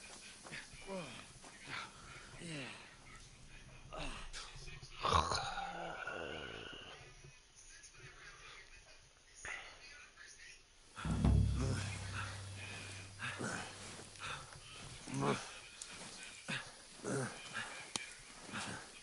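A dog in Kingdom Come Deliverance 2 whimpers and barks in short bursts, heard under game dialogue and background sound, with a louder burst partway through.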